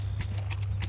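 Horse hooves clip-clopping at a steady walking pace among several horses outdoors, four or five soft knocks over a constant low rumble of background noise.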